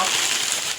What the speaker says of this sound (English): So I'm gonna take all this stuff out of the bag real quick